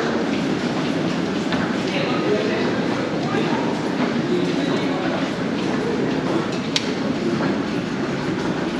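Underground train at Komsomolskaya metro station in Moscow gives off a loud, steady rumble and clatter of wheels for the whole stretch, with faint voices in the background.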